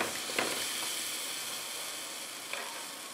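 Buttered cheese sandwich frying on a hot tawa, giving a steady close sizzle with a couple of brief soft clicks as the bread is handled.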